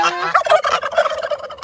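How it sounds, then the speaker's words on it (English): White male turkeys on a homestead gobble and fuss loudly and close by, their rapid, overlapping bursts of gobbling running continuously without a break. "I let my new turkeys out."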